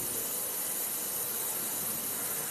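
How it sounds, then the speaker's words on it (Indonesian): An oxidizing gas welding torch flame burns with a sharp, pointed blue cone, giving a loud, steady, unbroken hiss with no other sound. "Tetapi kalau oksidasi, nah, api birunya lincip dan disertai dengan desingan yang agak kencang."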